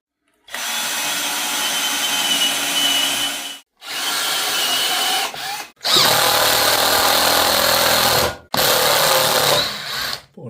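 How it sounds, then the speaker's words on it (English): A power drill bores into the top of an oak section in several long, loud bursts, each winding up and stopping abruptly, with short silent gaps between runs. "we're just going to drill into this section, into the top."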